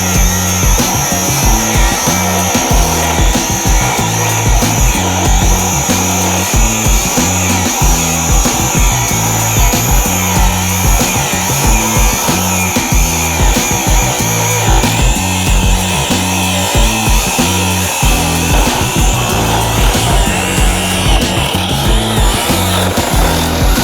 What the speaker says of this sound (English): Have you used an angle grinder before?